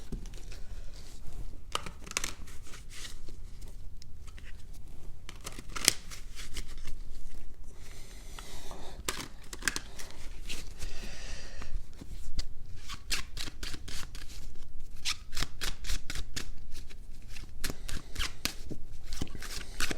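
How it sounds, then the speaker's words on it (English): A tarot deck is shuffled by hand in repeated bursts of crisp, riffling card flicks, close and clear, with brief pauses between passes. "Four more shuffles. I always shuffle in the same order."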